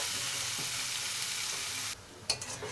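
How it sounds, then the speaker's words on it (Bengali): Loud, steady sizzling of onion, ginger and garlic frying in a pan, with a spoon scraping and stirring; the hiss drops suddenly near the end, followed by a few clinks. "আরও 2 থেকে 3 মিনিট নাড়াচাড়া করে ভালো করে ভেজে নেব"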